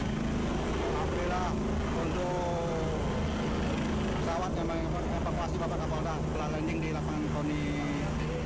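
A Super Puma helicopter flies during a search-and-rescue operation in Merangin, its rotor drone steady and continuous beneath a news narrator's voice, with other broadband noise mixed in.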